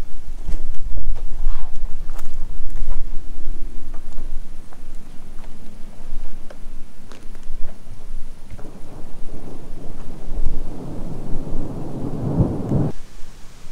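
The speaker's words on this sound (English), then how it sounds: "the whole sky is there full of thunderstorms" Thunderstorm over a camper van campsite, with low rolling thunder rumbling continuously, rain pattering on surfaces throughout, and a louder, heavier burst of rain or gusting wind near the end.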